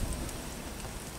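Swift river current at low water, where a shrimp net has been dropped in, makes a steady, soft broadband rush like light rain, continuous and fairly faint with no voices.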